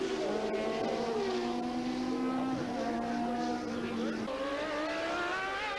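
Formula race cars, including a 2-litre March Cosworth, racing at Mondello Park in a European Boss Formula round, with engines droning and shifting pitch continuously under a steady loud roar, a commentator's voice faintly mixed in.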